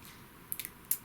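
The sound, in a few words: scissors cutting through in half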